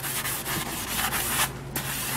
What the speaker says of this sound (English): go with a green 3M scrubby and really start putting some elbow grease on the surfaces